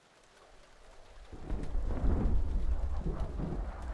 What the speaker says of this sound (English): Man, I love storms.